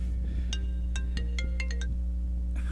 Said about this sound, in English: That was my phone ringing.